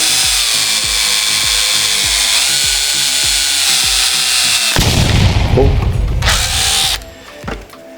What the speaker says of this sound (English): So you just want to drill a hole through the lid of the bottle.